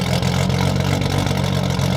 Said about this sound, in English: it's idling at like 950 pretty damn consistently